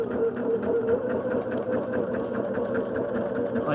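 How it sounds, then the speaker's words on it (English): A sewing machine stitches across a modern quilt sampler to tack it in place, giving a steady rapid mechanical whir with even needle pulses, fairly quiet and heard alone. "I'm gonna run a little bit of stitching out here to hold this"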